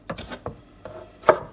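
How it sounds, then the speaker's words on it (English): A knife chops tomatoes into small dice on a board, four or five sharp, separate close cuts in an irregular rhythm, the last one the loudest. "I'm cutting them and chopping them up into tiny"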